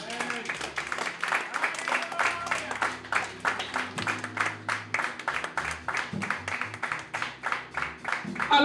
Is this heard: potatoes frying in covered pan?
no